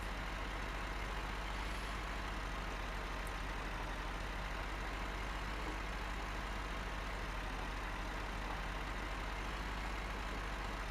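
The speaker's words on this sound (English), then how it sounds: "Really like this tractor." Tractor engine in Farming Simulator 2013, a steady low idling rumble with broadband hum running continuously throughout, with no talk over it.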